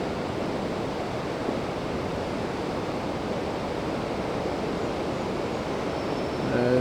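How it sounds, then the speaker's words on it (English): The flooded Great Chazy River churns with lofty waves, a steady, dense broadband rush of moving water that holds constant throughout, close and loud, with no voices. "lofty waves out in the center of the Great Chazy River"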